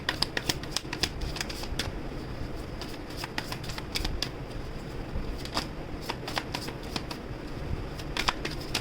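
Tarot cards being shuffled in a steady run of crisp riffling snaps and soft slides, close and fairly quiet, with no voices over the rapid clicking.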